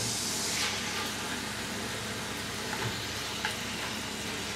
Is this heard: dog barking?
no